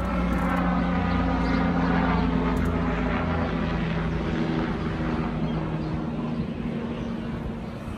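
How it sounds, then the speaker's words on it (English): A helicopter's continuous droning engine and rotor hum passes overhead in the Philippines, steady and fairly loud throughout, slowly fading toward the end. "And now we have a helicopter."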